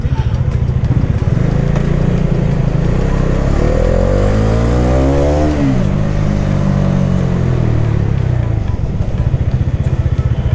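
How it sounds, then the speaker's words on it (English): Motorcycles ride through Little India in Singapore, a loud, close engine drone with one machine revving up and then easing off midway, busy street traffic noise throughout. "Delhi registered bikes in Little India in Singapore"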